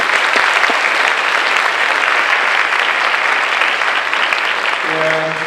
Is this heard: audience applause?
yes